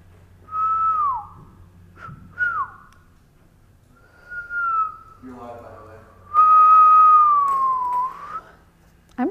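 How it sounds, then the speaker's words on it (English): A person whistles several separate tuneful phrases, some short rising and falling notes, ending with a longer, louder sustained whistle, with quiet pauses between. "I'm really proud of those whistles."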